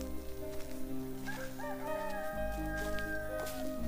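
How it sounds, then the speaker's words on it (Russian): A rooster crows at an old holiday camp in the woods, a drawn-out rising and falling call lasting a couple of seconds, moderately close over a steady low background hum and scattered outdoor noise. "кукарекает петух?"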